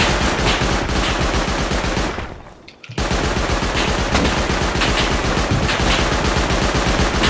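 Rapid automatic gunfire in the video game Rust, a loud continuous stream of shots that stops briefly for a moment and then resumes at the same relentless pace.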